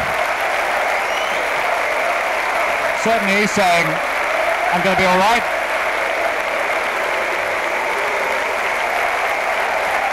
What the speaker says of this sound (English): Acknowledging the cheers of the crowd.